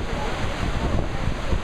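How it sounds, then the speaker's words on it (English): Big waterfall pouring into a large pool, heard from its base as a steady, loud, broad roar of rushing water with wind buffeting the microphone. "I'm at the base of the waterfall. There's a big pool here. This is the big waterfall."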